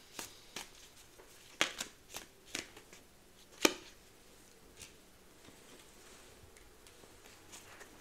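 Tarot cards being shuffled and drawn, a run of soft papery flicks and slaps, close and fairly quiet, bunched in the first half and thinning to occasional light taps with no talking.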